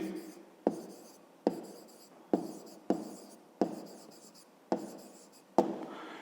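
A pen writes an answer on paper in a steady run of short scratching strokes, each starting with a sharp tap and fading out, about eight in a row, close and quiet.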